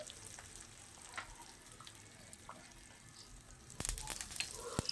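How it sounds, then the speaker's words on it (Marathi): Red and green chilies and curry leaves sizzle in hot oil as a tempering for chutney; a steady frying hiss runs throughout, swelling into a louder, sharper crackle near the end, with no talking. "आता चटणीला आपल्याला तडका द्यायचा आहे"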